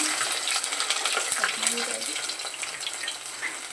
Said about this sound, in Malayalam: എണ്ണ ചൂടായി വന്നിട്ടുണ്ട് അതിലേക്ക് നമുക്ക് ഉലുവയും വലിയ ജീരകവും ചേർത്ത് കൊടുക്കാം